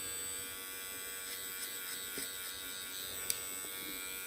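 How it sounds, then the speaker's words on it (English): Electric hair clippers buzz while cutting hair clipper-over-comb for a quick at-home trim, a faint, steady hum with a few small clicks and taps, no voices. "you can go in and do a little clipper over comb just nick into it a little bit"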